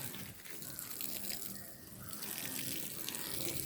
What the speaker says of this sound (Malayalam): ഇച്ചിരി വെള്ളം വീട്ടി കൊടുക്കാം.